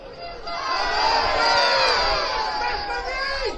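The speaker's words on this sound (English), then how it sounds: "Peacock just inciting a bit of passion out of the crowd" A large crowd at a football cup final roars in cheers and shouts, swelling and then easing over a few seconds. The crowd noise fills the scene, with excited voices mixed through it.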